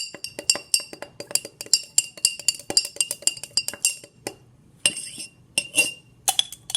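A spoon stirs a mixture in a glass container, rapid bright clinks in a quick steady rhythm, close and clear, pausing briefly before a few more clinks.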